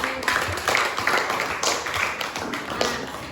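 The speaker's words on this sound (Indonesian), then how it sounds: "Berikan tepuk tangan untuk" Scattered clapping from a classroom group of students, uneven and close, with irregular hand taps and a few thumps rather than a full ovation, running steadily without a break.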